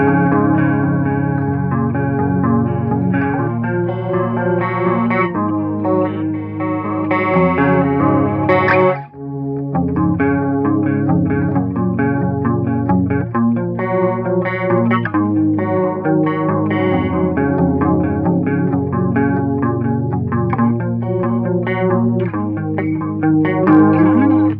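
Clean electric guitar on the neck pickup through a chorus effect with distortion switched off, playing the intro of a song as a continuous shimmering riff for about twenty-five seconds with no talking.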